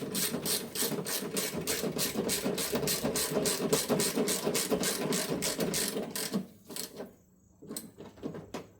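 A hand ratchet clicks in a steady rapid rhythm for about six seconds while fastening a headlight component on a Ram truck, then stops with a few scattered taps, close and fairly loud with no talk.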